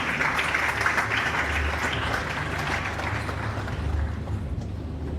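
Audience applause at a university graduation ceremony in a large hall: steady, dense clapping that holds at an even level throughout with no clear speech over it.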